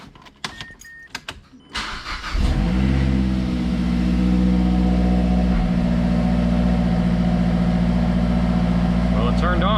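A Mazdaspeed3 engine, after valve cover gasket and spark plug replacement, cranks briefly after some clicks and handling noises, then catches and settles into a loud, steady idle that runs to the end.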